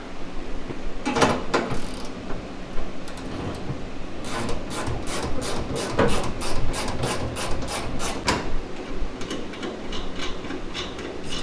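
A ratchet wrench fitted with straight-through sockets clicks away on a light, empty fuel tank, quick bursts of close, metallic ticking repeating steadily over a constant workshop background.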